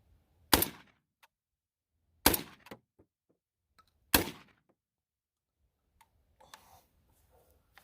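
Three sharp, loud shots from an AK-12 style shotgun ring out about two seconds apart, each with a brief ringing tail, followed by faint clicks and handling noise.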